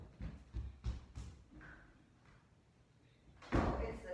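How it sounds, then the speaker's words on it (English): Quick footsteps thud across an office floor. After a pause, a door shuts with a single solid thump close by, followed by a short rattle. "Steve, can you just close your office door, please?"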